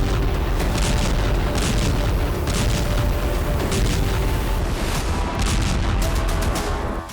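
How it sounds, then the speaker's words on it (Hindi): Heavy blasts from drone and Iskander missile strikes in Ukraine roll out as a continuous, loud rumble, with repeated sharp booms and crackling bursts layered over a deep, sustained roar. "यूक्रेन में ड्रोन और इस्कंदर जैसी मिसाइलों के धमाके हुए"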